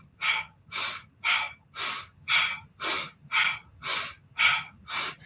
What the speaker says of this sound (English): We're going to breathe as we cross.